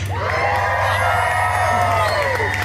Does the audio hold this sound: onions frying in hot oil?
no